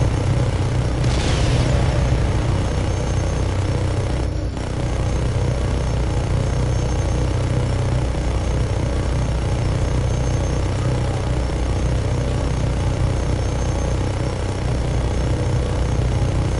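A helicopter in the video game Just Cause 3 drones with a steady low engine rumble and rotor thrum, loud and continuous, with a brief whooshing burst early on and a sharp crack midway.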